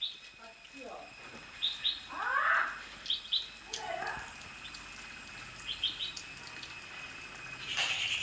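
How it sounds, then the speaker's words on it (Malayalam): A bird near a wall outdoors gives short, bright chirps in scattered bursts, joined by brief wing flaps, over a steady background hum. "ഒരു പക്ഷി."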